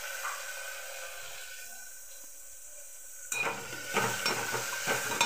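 Chopped tomato dropped into a hot tempering of oil and asafoetida for sambar, setting off a sudden loud sizzle and crackle after a quiet stretch, with stirring and utensil clinks as it fries close up.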